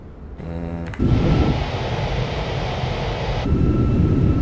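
Fenix airliner engine in a flight simulator game, a steady broadband roar that swells suddenly after a brief quieter start and holds loud and continuous throughout.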